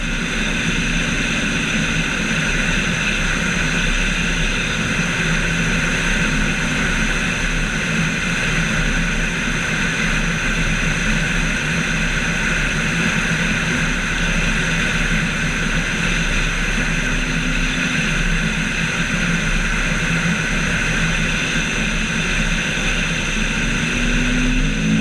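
Light plane engine droning steadily throughout the landing approach to Zweisimmen in Switzerland, a loud, continuous hum with wind rush and no talking.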